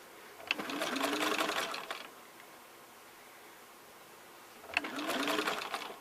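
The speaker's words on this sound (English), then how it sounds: "you really shouldn't be sewing over the pins" Domestic sewing machine stitching fabric, running in two bursts of about a second and a half each, separated by a quiet pause, with a steady rapid mechanical whir close by.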